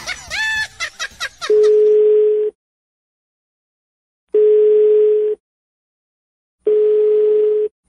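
A telephone line plays a quick burst of dialing tones, then three long, steady ringback tones spaced by silences while a prank call is placed again, loud and alone with no talk.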